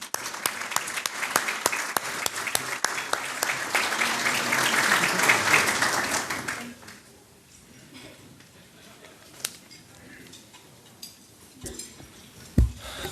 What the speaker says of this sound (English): Another round of applause for Troop 1104.